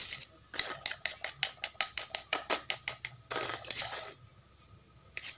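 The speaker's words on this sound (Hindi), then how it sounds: "सकते हैं आपको इस तरीके से इनो डाल के इसको इस तरीके से अच्छे से मिक्स कर लेना है।" Lemon juice and Eno fruit salt being stirred together in a bowl, a spoon scraping in a quick steady series of about a dozen close, crisp strokes, followed by a brief fizzing rasp.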